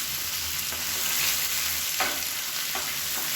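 Onions sautéing in a pan for a sambar lunch, with a steady, dense sizzle throughout and a couple of faint spatula scrapes.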